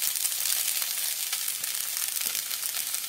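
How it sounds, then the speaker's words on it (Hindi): Sabudana khichdi frying in a pan as roasted peanut powder goes in, a dense continuous sizzle with faint stirring scrapes, close and steady. "अब इसमें डालेंगे रोस्टेड मूंगफली"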